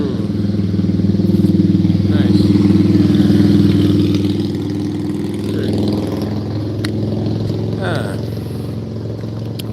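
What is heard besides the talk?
motorcycle passing by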